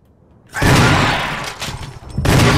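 Shotgun blasts against a Hunter in the Resident Evil Remake video game: two heavy, booming discharges with a long rumbling decay, loud and close, with no talk over them.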